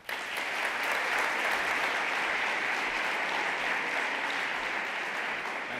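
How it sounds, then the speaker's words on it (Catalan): Steady audience applause at an awards ceremony, a dense, even wash of clapping from a large hall crowd that holds for several seconds at moderate level without voices. "un aplaudiment."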